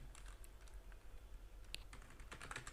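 Quiet typing on a computer keyboard as a message is written to a chatbot, scattered soft key clicks in short bursts, close and faint with no voices.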